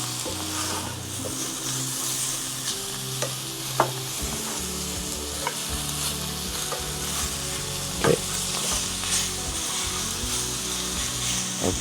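Goat chops sizzle in a single pot while being stirred, a steady loud frying hiss with scraping stirs and occasional clinks of the utensil against the pot, no voices.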